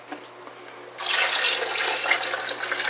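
Liquid pours steadily into a blender with a rushing, splashing wash that starts abruptly after a second of quiet and continues without talk.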